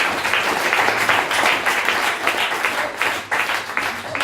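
A church congregation applauds loudly and continuously during a French-language prayer service, with dense clapping that swells and dips and a brief drop near the end, with voices faintly mixed in.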